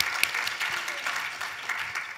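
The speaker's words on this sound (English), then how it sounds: "Let's give everyone our own round of applause and clap for ourselves" Applause from a seated audience at a talk on rare sleep disorders, a dense steady patter of many hands clapping at moderate volume, heard alone and without speech.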